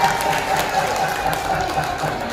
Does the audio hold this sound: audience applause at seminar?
yes